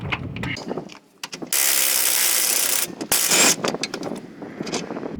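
Ratchet working on a stuck 22mm lower control arm bolt on a 2011–2020 Toyota Sienna, with a sustained loud hiss-like clicking burst in the middle and scattered clanks and short ratchet strokes around it, close up.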